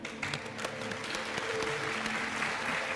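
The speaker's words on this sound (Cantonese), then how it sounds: "我都覺得值得為呢20位嘅佳麗鼓掌嘅" Sustained, dense applause for twenty Miss Hong Kong beauty pageant contestants, an even wash of many hands clapping without a break for the whole few seconds.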